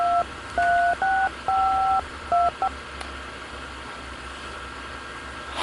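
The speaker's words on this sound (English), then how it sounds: "You get on the phone and call Mittens and tell him you're sorry" A touch-tone telephone number is dialed: a quick series of about eight clear, steady beeps in uneven bursts, each a two-note chord, over a faint hiss, then near silence.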